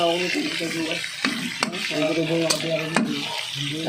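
Chicken and pork adobo frying in a pan as oyster sauce goes in: a steady sizzle and stirring scrapes, with a few sharp utensil clinks and faint background voices.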